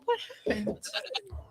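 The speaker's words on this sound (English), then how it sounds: "It's a goat. I knew it was a goat." A goat-like bleat sound effect plays from a novelty mystery button in short, quiet bursts, mixed with people talking and brief laughter.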